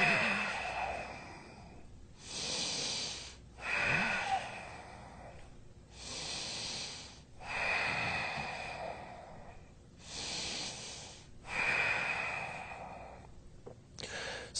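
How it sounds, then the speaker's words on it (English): Slow, deep yoga breaths taken while holding downward dog during a power yoga session, a steady cycle of soft inhales and long sighing exhales with a few sharper nasal snorts, close and quiet. "Five breaths in down dog."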